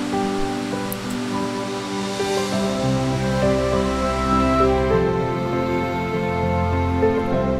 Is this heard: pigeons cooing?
no